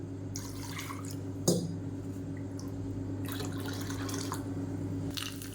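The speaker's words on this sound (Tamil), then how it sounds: "இப்போ மிக்சியை அலசிட்டு அந்த தண்ணி சேர்த்துக்கலாம்" Rinse water from a mixer jar goes into a chutney as faint drips and a soft trickle, with one small splash near the start over a low steady hum.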